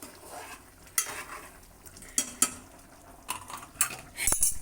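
Curry simmers in a pot on the stove beside rice, with soft bubbling and a few light clinks and scrapes of a spoon against the metal, fairly quiet and without talk.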